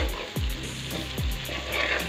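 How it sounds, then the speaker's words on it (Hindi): Potato pieces frying with spices in a pan for jeera aloo, a steady sizzle running throughout with a few soft clinks of a spoon stirring, close and moderately loud. "1 मिनट हम आलूओं को और फ्राई कर लेंगे ताकि जो हमारे मसाले हैं अच्छे से भून जाएं"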